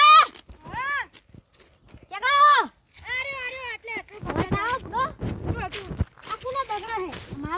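Several loud, wavering goat bleats ring out close by, repeating with short gaps, while people talk in between.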